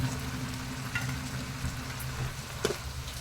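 Mutton liver sizzles quietly in a hot pan, a soft continuous frying hiss with a low hum underneath and an occasional clink of a utensil.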